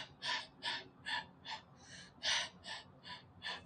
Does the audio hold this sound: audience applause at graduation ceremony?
no